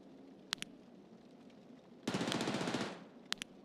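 A sustained burst of rapid video game gunfire rattles for about a second, framed by a few sharp single shots before and after, loud and close with no talking.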